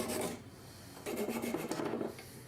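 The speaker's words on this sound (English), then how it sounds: "I gave it a gentle sand with fine sandpaper to remove all the little scratches" A soft, steady rasp of fine sandpaper rubbing back and forth over a wooden axe handle, close up and on its own, no voices.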